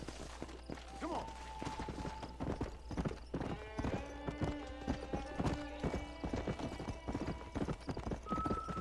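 A horse's hooves pound in a steady galloping clip-clop in the Red Dead Redemption video game, close and continuous, with a brief whinny and sustained musical tones underneath.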